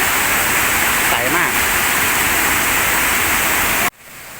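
A constant rushing roar of falling water from the fourth tier of Chet Sao Noi Waterfall in Saraburi, Thailand, broadband and loud, cutting off abruptly near the end.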